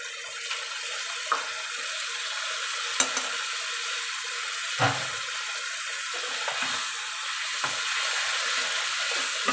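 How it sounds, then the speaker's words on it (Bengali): Spice paste with coriander powder and tomato puree frying for aloo dum, a continuous bright sizzle with soft crackles and a few scraping stirs. "এটাকে ভালো করে মশলাটাকে ফ্রাই করবো।"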